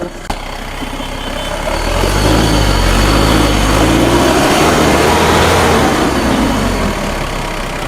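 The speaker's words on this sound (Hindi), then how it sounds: "बाकी मैं कैमरामैन से कहूँगा कि हमारे दर्शकों को सुनाए कि इस गाड़ी का इंजन नॉइज़ कैसा है।" A Mahindra Bolero engine idles steadily up close, a deep even rumble that swells slightly after the first couple of seconds and then holds constant, with no talk.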